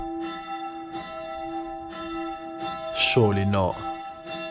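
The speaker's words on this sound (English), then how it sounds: "does this mean each hour I'm sleeping, a bell's gonna go off?" Automatic church bell in an Austrian Alpine village rings in steady, evenly spaced strokes with a ringing tone between them, and someone speaks briefly over the bells.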